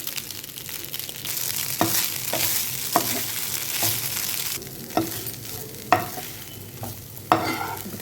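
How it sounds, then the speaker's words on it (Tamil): Cooked rice is stirred and mashed into a curry leaf pulihora mixture in a pan, giving repeated scraping and thudding strokes roughly every second over a low sizzle, close by and without any voices. "இதில் இப்போது இது மாதிரி வடித்த சாதத்தை போட்டு பிசைஞ்சு எடுத்துட்டோம்னா"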